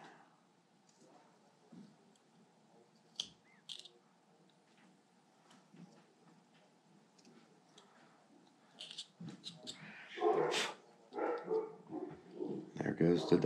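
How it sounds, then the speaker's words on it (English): Dogs bark in scattered, distant yips that grow into louder bursts near the end, over the quiet scraping of a wood carving project and occasional speech. "There goes the dogs."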